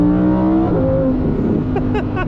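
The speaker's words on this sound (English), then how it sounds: "feel just that swell of V10 power, naturally aspirated V10 power kick up" A Lamborghini Huracan Sterrato's naturally aspirated V10 swells loudly as it accelerates, a steady close-up engine roar that climbs through a gear change, with no talking over it.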